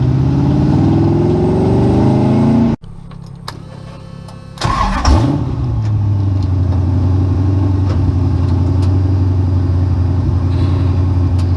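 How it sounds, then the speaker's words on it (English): An off-road vehicle's engine runs steadily, cuts out briefly, then restarts and settles into a loud rumbling idle as it backs out of a driveway in a newly installed reverse gear; close and continuous, no voices. "We're gonna back out of the driveway here. On that new reverse gear."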